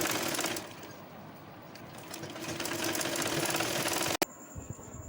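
A sewing machine runs steadily while stitching over elastic on a dhoti salwar, a close continuous whirring hum that stops abruptly near the end, followed by a brief quieter moment.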